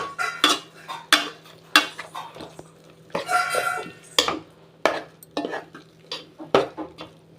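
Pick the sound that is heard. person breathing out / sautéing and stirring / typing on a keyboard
sautéing and stirring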